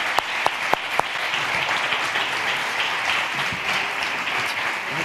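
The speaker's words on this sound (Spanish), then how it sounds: "vamos a darle un aplauso para que se anime también" Sustained audience applause fills a conference hall, dense and steady clapping with a few sharp louder claps near the start, no voices over it.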